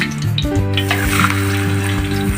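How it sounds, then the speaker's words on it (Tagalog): Dalagang bukid fish frying in hot oil in a pan gives a bright crackling sizzle, heard close alongside a steady tonal hum. "ipiprito na natin ang ating unang batch ng dalagang bukid"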